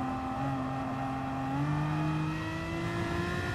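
A race car engine held near redline at the Red Bull Ring in GT Sport gives a steady, loud, high-pitched harmonic whine that rises slightly in pitch, with no talking.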